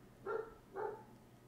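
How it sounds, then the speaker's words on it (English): A dog barks twice in the background, two short, faint woofs about half a second apart over a quiet room. "Sorry if y'all can hear the dog barking in the background"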